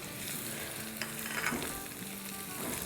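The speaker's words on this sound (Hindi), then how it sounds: "यहाँ लहसुन जो है वो थोड़ा थोड़ा ब्राउन हो गया है, तो इसमें डाल देते हैं 1 हरी मिर्च" Crushed garlic and a green chili sizzling in hot oil for dal tadka, a continuous moderate crackle and hiss with faint stirring, no voices.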